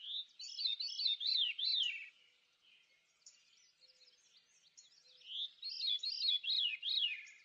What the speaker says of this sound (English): The song of the veery is a haunting, two-toned descending spiral.